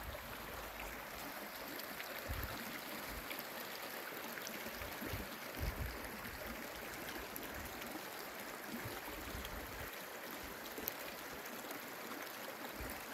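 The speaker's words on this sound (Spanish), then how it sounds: "Ahí le estamos mostrando la cascada." Steady rushing water noise throughout from a waterfall near Mérida, Venezuela, heard from a distance, with occasional low thumps and no speech.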